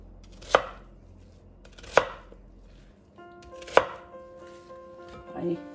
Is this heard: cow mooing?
no